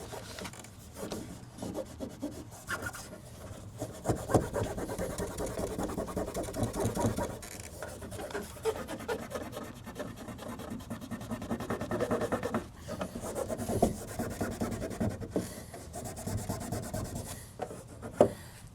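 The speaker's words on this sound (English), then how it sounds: "Just make sure you're using different parts of the microfiber." A microfiber cloth is rubbed over car paint on a 2026 Tesla Model Y Juniper to lift adhesive residue where a rear badge was removed, producing continuous close scrubbing strokes with an uneven back-and-forth rhythm.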